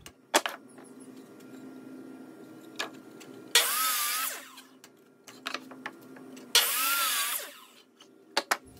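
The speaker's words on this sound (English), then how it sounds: "Cut the scrap deck board to equal lengths. I'm using a miter saw" Two bursts of a miter saw whining through a scrap deck board, each lasting under a second, separated by quieter clicks and handling noise.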